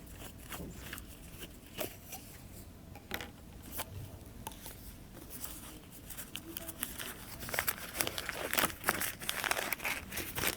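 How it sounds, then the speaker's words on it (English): Oil paper wrapping for a fuel injector valve assembly crinkles and rustles in continuous handling, crackling irregularly up close and growing busier toward the end. "That's the oil paper."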